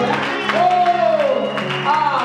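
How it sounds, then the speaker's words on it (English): A Sunday church congregation claps for Cindy in a steady, close burst of applause with some cheering, while a voice and tonal sounds carry on over the top. "Can you clap for Cindy?"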